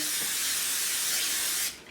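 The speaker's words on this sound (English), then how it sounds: "Now we take our casserole dish that we're going to put our enchiladas in. And we're just going to go ahead and spray this down" Cooking spray hisses continuously and close into a casserole dish for nearly two seconds, then stops abruptly.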